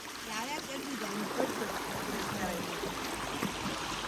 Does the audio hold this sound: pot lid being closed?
no